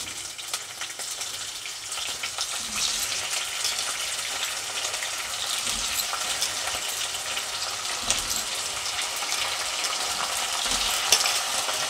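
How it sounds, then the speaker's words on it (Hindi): Potatoes frying in oil in a pan, a steady close hiss of sizzling that keeps up evenly from start to end with faint stirring scrapes now and then, no voices. "आलू को भी इनको ही फ्राई कर लेती हूँ इसमें ही"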